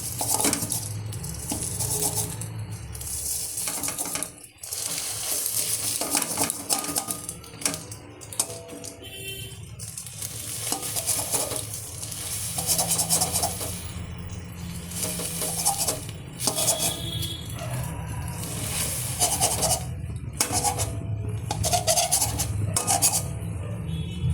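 Cooked egg is broken into pieces with a utensil inside a metal wok, giving continuous rasping scrapes, clinks and stirring knocks for the whole stretch, close and fairly busy, with no talk.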